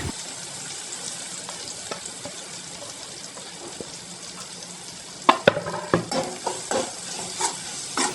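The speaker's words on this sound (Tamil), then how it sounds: "இப்போ அதே எண்ணெயில் நம்ம பொடியாக நறுக்கின வெங்காயத்தை வந்து நம்ம போட்டுக்கலாம்" Finely chopped onions fry in hot oil for an egg pepper gravy, a soft continuous sizzle that grows busier in the second half with louder spoon scrapes and clatters against the pan. No speech.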